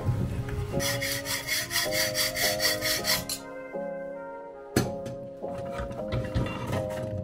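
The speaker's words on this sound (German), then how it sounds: "Jetzt schneiden wir hier unten nochmal quer rüber, damit das nicht ewig lang aussteht." Hand saw cutting across a metal bracket for a Rotrex supercharger intercooler on a BMW E34 with an M50 engine, rhythmic rasping strokes close up, pausing briefly before the sawing resumes.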